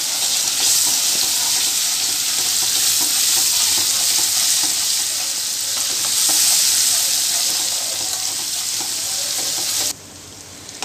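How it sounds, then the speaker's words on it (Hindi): A masala of ground green chili, ginger-garlic, coriander powder, turmeric and salt fries loudly in oil, a dense continuous sizzle with faint stirring scrapes, cutting off abruptly near the end. "इसे थोड़ी देर फ्राई करेंगे।"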